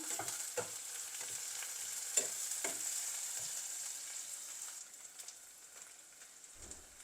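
Fresh garden mint leaves stirred into prawn biryani frying in a pot, a faint even sizzle with soft intermittent stirring scrapes, quiet and without speech.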